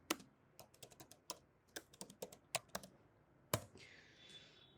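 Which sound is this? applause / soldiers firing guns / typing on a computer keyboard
typing on a computer keyboard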